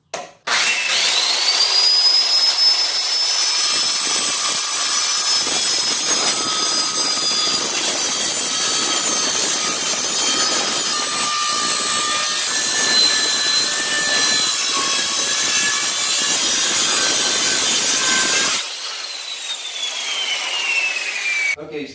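A power saw cuts through a wooden board taped along the cut line for a deck patio table, roaring loudly and steadily for many seconds before the blade winds down.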